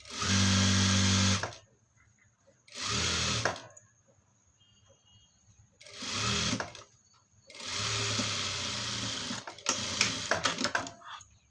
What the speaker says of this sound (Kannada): ಈಗ ಆ 3 ಸ್ಟಿಚಸ್ಸನ್ನು ಸೇರಿಸ್ಕೊಂಡು ಒಂದು ಸ್ಟಿಚ್ಚು ಹಾಕೊಳ್ಳೋಣ